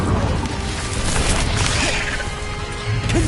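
In the video game Hogwarts Legacy, an Incendio fire spell bursts with a dense crackling, roaring whoosh, loud and sustained across the whole moment amid combat clatter, without speech.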